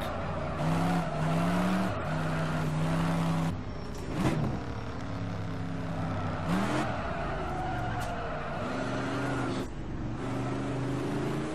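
A V8 AC 427 Shelby Cobra in the rFactor 2 racing simulator revs and drives continuously with a loud, deep engine note that rises and falls through gear changes, punctuated by brief tire squeals and skids, with no talking.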